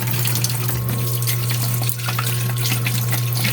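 Tap water runs steadily into a sink while carrots are rinsed under it in a home kitchen, a loud continuous splashing stream with faint handling noises and no talking.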